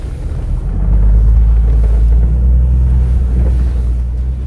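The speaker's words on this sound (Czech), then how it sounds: "v autě bylo slyšet jen zvuk motoru a nikdo ani nedutal." A vehicle engine drones loudly and steadily on a rough road through remote Mongolian countryside, a low continuous rumble mixed with wind noise, no voices.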